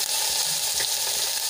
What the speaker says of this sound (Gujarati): હવે એને આપણે થોડી વાર માટે તેલમાં સાંતળી લઈશું.